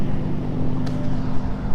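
Loud, steady engine drone from a Nissan Skyline V35 drift car, a low rumbling hum held throughout with no talk over it.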